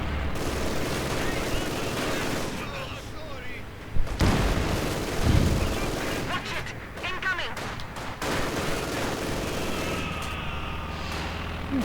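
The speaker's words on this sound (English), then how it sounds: "And a quick Stuka rolling in there, strafing run" A Stuka strafing run in Company of Heroes 2, rapid gunfire bursts and booming explosions rolling across a battle soundscape, with a commentator talking over the action and game voice lines.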